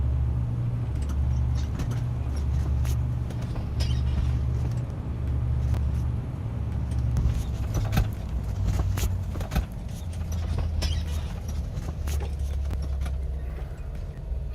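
The rear engine of a parked Cessna 337 idles with a steady low drone and rumble, holding at a constant level throughout with occasional faint clicks and knocks on top.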